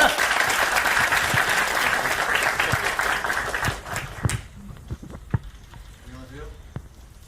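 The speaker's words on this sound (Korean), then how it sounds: "큰 박수로 맞으시길 바랍니다" Applause from a university audience welcoming a guest speaker at a student debate event: dense, loud clapping for about four seconds, then it thins out into a few scattered claps amid quieter room sound.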